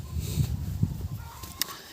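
Chickens cluck nearby in short low bursts, with a faint higher squawk near the end over a quiet background.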